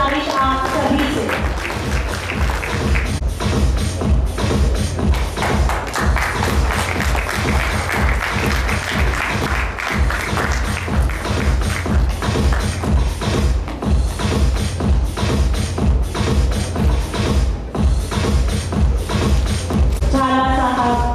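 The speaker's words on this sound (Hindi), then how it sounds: "जोरदार तालियों की गुजारिश आप सभी से।" An audience at a hotel association swearing-in ceremony applauds in a dense, sustained wash of clapping lasting many seconds, loud and close, with a voice on a microphone at the start and end.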